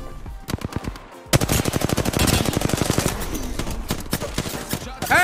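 Rapid automatic gunfire in the battle royale game Apex Legends: a short burst, a brief pause, then a long loud stream of close shots, with a slight tail of echo at the end.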